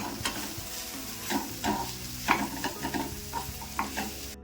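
Turmeric and Kashmiri chilli powder get stirred into okra and potatoes frying in a pan. A spoon scrapes repeatedly over a steady oily sizzle, close and moderately loud, with no talking.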